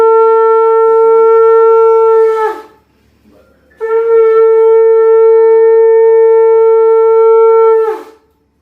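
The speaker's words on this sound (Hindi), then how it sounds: "यहाँ जो शंख है वो मैं ही बजा रही हूँ" A conch shell blown during a Hindu Satyanarayan puja at home, sounding two long, loud, steady blasts with a short pause between them, each ending in a falling wobble.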